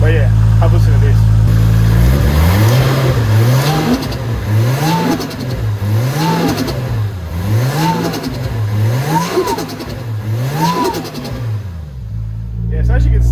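Toyota JZX car with a turbo engine, started after sitting unused for a while and not running well, revving in five to six rhythmic rising-and-falling throttle blips, loud and close, with no talk over it.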